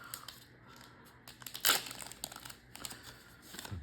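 A One Piece card game booster pack being torn open up close: quiet crinkling of foil wrapper with a sharp ripping tear in the middle, followed by more soft rustling.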